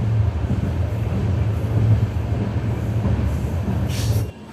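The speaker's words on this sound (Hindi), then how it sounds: "इस वक्त हमारी ट्रेन सरसराती हुई स्किप कर रही है पृथ्वीराजपुर रेलवे स्टेशन को" A passenger train running through Prithvirajpur railway station on the Suratgarh–Shri Ganganagar line, heard from on board as a loud, steady rumble of wheels on track with a low drone, ending in a brief squeal.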